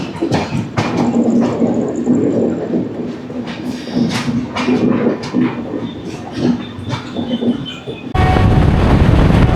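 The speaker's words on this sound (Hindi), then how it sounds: "टोटल 2747 किलोमीटर 44 घंटे में कवर करने वाली ट्रेन।" Karnataka Sampark Kranti express running through the Kacheguda route, heard from inside a sleeper class coach: a steady, loud rumble of wheels on rail with clattering joints and rattles, ending in a louder burst of track noise.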